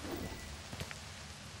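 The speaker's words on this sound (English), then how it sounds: "Oh, it's raining now." Rain falling in the video game Kena: Bridge of Spirits, a soft steady patter with faint rumbling underneath, quiet and continuous throughout.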